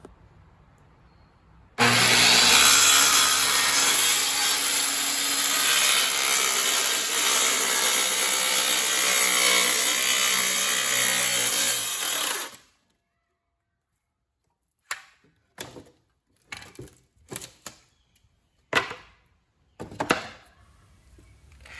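A power saw cuts plywood for a mortar rack, a loud continuous whine and buzz running for about ten seconds, then stops, followed by several short knocks and bumps as the board is handled.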